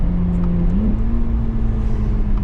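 A dually truck engine revs up to about 4,000 RPM, a loud, close, steady drone with a rising pitch step partway through.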